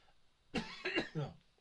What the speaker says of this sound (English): Without me coughing all over the place.